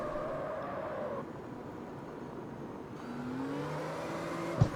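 Car with an RB engine in the racing video game CarX Street, a thin moderate engine drone with rising and falling pitch as it revs, ending on a brief sharp knock.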